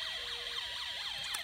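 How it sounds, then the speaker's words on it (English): Electronic police car siren from a Snap Circuits kit, a rapid warbling tone sweeping up and down repeatedly in a steady cycle, loud and alone without talk. "you'll hear that there's only a police car siren"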